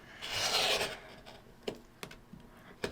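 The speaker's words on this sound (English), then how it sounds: "So I'm going to cut myself a 7 by 7 3/4 inch" A fabric rectangle about 7 by 7¾ inches is cut for paper-pieced quilting: one soft rasping cutting stroke near the start, then a few light taps and clicks in a quiet room.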